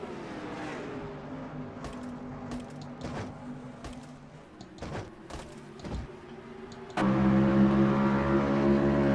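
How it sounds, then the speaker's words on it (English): Race cars on an oval track in a racing video game, engines droning steadily at close range with a few sharp clicks, then a louder, deeper engine roar swelling in near the end. "Keith Batson dives underneath. So does Raphael Leduc, and Leduc gets tail happy come off turn number 4"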